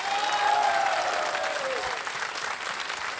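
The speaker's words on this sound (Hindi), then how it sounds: "ताली बजनी चाहिए।" Studio audience applause on the KBC Season 14 set, a full room clapping steadily and loudly, with a faint tonal sweep fading under the crowd's continuous clatter.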